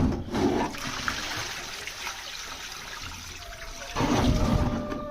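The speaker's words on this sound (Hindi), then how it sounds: "इसे तो मैं भाई खाली करके जाता हूँ, सारा पानी इसके अंदर कर देता हूँ" Water poured out of a container into another vessel, a loud steady splashing rush that eases to a thinner trickle and then surges again near the end, with no talk.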